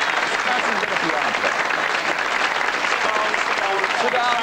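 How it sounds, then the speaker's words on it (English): An audience at a 1982 television show in Cork, Ireland applauds a pianist, a steady dense wash of many hands clapping throughout, fairly loud and even with no speech over it. "I think Frank Duggan deserves a round of applause."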